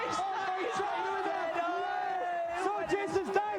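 A TV studio audience cheers during a tense video game contest, a crowd of mostly young voices whooping and shouting together in rising and falling bursts, loudest toward the end.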